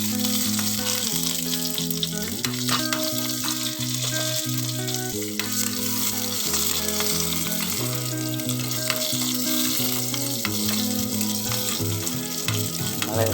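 Dried red chilies, chopped shallots and curry leaves fry in hot oil for an erisseri of pumpkin and long beans, a steady crackling sizzle running throughout beneath loud continuous music with a pulsing bass line.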